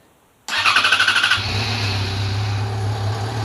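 A motorcycle fitted with a new battery cranks briefly with a rapid pulsing starter rhythm, then fires and settles into a loud, steady idle close by, with no talking.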